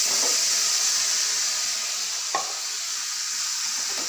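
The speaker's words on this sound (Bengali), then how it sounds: "এবার কড়াইয়ে হালকা পরিমাণে তেল দিয়ে একটু জিরে দিলাম।" Cumin and a ground spice paste fry in a little oil in a kadai, giving a steady close sizzle with a faint stir or clink of a spoon midway, no voices.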